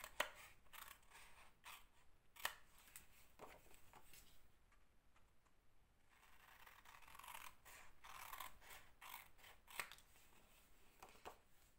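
Quiet, close snipping of scissors trimming the corners off a paper rectangle, a steady series of small crisp cuts and paper scratches with no talking.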